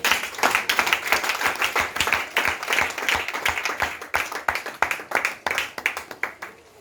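Congregation at a French-language church service applauding, with dense rhythmic clapping that builds and continues steadily for several seconds, loud and close, with voices mixed in beneath.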